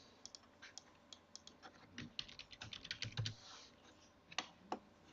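Keys clatter in a quick irregular burst as a room name is typed on a computer keyboard in Revit software, the close, light clicks bunching up and then thinning out.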